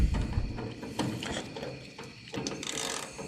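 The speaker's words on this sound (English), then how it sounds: "Take our T20 Torx bit, get a screw started, get it back in there to hold your tail light lens back in." Screw driven back into a car tail light housing with a T20 Torx bit to hold the lens in: close, quiet, uneven ratcheting clicks and plastic creaks lasting a few seconds.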